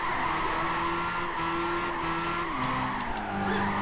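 Tires squeal in a sustained skid as the Shuichi Shigeno AE86 drifts in Gran Turismo 5, with the engine note holding steady, then dropping and shifting midway, loud and close throughout.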